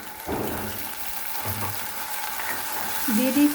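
Ginger-garlic paste and cumin paste frying in hot oil hiss and sizzle as water is poured in, a steady close sizzle with a few soft stirring scrapes.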